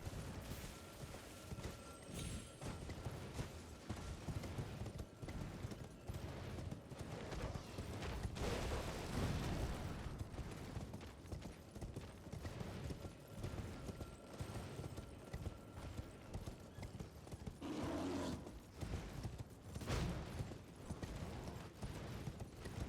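Horse hooves gallop in Elden Ring, a rapid steady clatter running throughout at a quiet level beneath game ambience, with a few louder impacts along the way.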